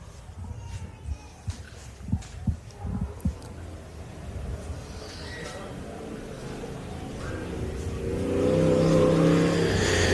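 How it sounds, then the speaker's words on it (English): A 4x4 race vehicle circulates on an off-road park track during a heat, its engine droning steadily at middle distance with a few sharper revving bursts early, then swelling louder and closer toward the end. "And we have Toby Stevens still out on the track circulating as we can hear Hank closing in on the tavern now"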